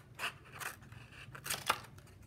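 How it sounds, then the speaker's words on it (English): Scissors cut a paper plate in half with a series of crisp snips and crinkly paper rustles. The cuts come at an uneven pace, close and moderately loud, with no talking. "carefully using a pair of scissors, we're going to cut it in half with one half a little bit bigger than the other."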